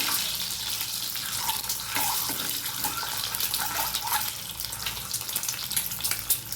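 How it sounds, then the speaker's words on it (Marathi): Eggs frying in oil in a pan, giving a steady, close hiss and crackle that keeps going without pause and with no voices over it. "ही अंडी आपल्याला तेलावर जरा फ्राय बनवून घ्यायची जरा परतून घ्यायचे"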